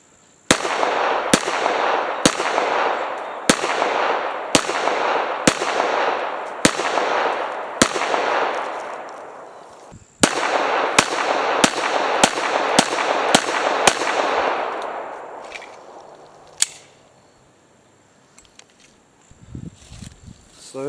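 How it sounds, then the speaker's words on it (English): A Rock Island 1911 pistol fires steel-case ammunition outdoors, loud sharp shots in a steady rhythm, about eight, then a brief pause and another quick string of shots, each with a long ringing echo. "This is my first mag with the Rock Island 1911."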